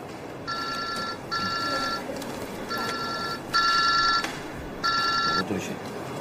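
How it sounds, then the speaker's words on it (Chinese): A telephone ringing with a bright electronic trill in repeated bursts separated by short pauses, fairly loud and close in a hospital setting. "我们杜旭，接个电话啊。"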